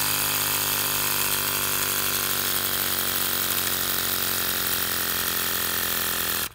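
An electric pump inflating an Umarex Big Blast target cap through a standard sports valve toward 60 PSI drones at a constant, loud, steady pitch, then cuts off abruptly at the end.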